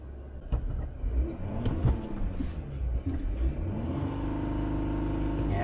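A car with its check engine light on, just after a rough Alaskan road crossing, revs and rumbles up to about 3,000 RPM then holds there in a steady drone, heard from inside the vehicle with no talk.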